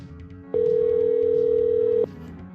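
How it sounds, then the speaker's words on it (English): Steady electronic tone on a phone line as a prank call to a store is placed, one continuous beep lasting about a second and a half over faint background hum, with no talking. "The last call of the show started when Sam called a store to apologize"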